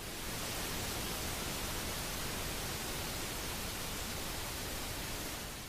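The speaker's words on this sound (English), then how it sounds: "Pink noise is like white noise," Steady pink noise fills every moment at an even, loud level, a smooth broadband hiss weighted toward the low end, with no other sounds or voices.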